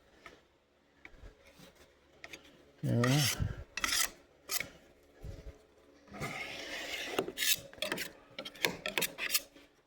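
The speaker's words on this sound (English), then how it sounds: "And then just keep scraping it and making that gap close up." Bondo filler being scraped smooth across a seam on a fiberglass camper mold, giving a series of close, uneven rasping strokes in bursts, with short pauses between them and no talking.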